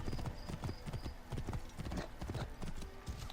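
Galloping horse hooves in Assassin's Creed Origins: Curse of the Pharaohs, a loud, fast, steady clip-clop rhythm running throughout at close range, with no talk.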